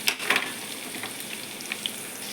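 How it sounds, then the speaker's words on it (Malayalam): Sliced onions sizzle in hot oil with mustard seeds and curry leaves, a continuous close hiss with a few sharp pops and crackles near the start. "കടുക് പൊട്ടി അഞ്ചാറ് കറിവേപ്പിലേക്ക് ഇതാ നമ്മൾ നിരുനിര അരിഞ്ഞ് കുറച്ച് സവാള ഇട്ട് കൊടുത്ത്"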